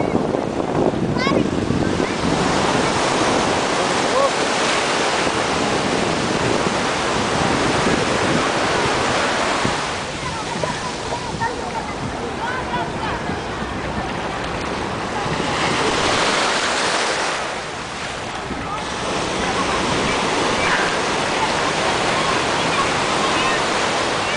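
Ocean waves wash onto a beach in a steady, loud roar of surf with wind, swelling and easing in long surges over about twenty-five seconds.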